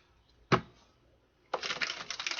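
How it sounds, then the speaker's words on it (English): Tarot cards give one sharp riffle near the start, then a longer, busy run of papery flutters and snaps, close and fairly loud, with no voices over it. "One more shuffle."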